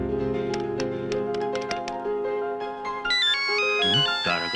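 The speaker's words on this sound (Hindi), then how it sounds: "तारा का फोन" A mobile phone ringtone for an incoming call plays loud and close, a bright synthetic melody with rapid repeated notes that climbs in pitch, sounding alone without talk.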